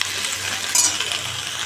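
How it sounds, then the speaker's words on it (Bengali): Onion and kalonji frying in a pan, a steady close sizzle with a brief brighter hiss partway through and a faint low hum underneath. "পেঁয়াজকালি ভাজা হয়ে গেল"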